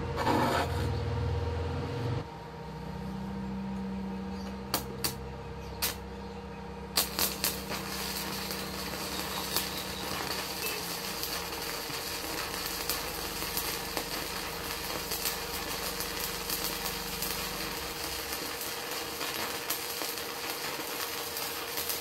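Arc welding on a steel plate with a 6013 electrode at roughly 70–75 amps, a steady crackling sizzle that runs continuously for most of the stretch, close and fairly loud with occasional sharper pops.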